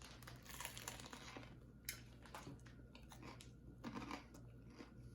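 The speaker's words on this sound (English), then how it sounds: "I just want to take a couple of bites alone" Crunchy bites and chewing of a prosciutto and cheese sandwich on homemade bread, close and faint, with several soft crunches spread over a few seconds and no talking.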